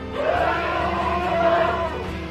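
An angry elephant lets out one loud, sustained trumpeting call lasting about two seconds, rising and wavering above a rough background.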